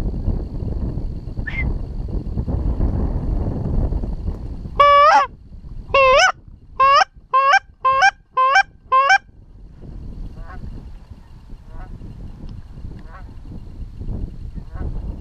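Geese honk in a quick series of about six loud, close calls during a September goose hunt at the season opener, set against steady low background rumble with scattered quieter sounds afterward.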